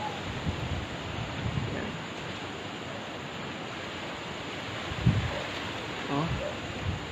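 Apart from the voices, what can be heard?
wind during typhoon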